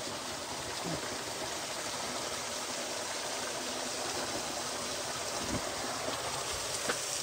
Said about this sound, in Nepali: पानीको मुहान चाहिँ यसरी आइरहेको छ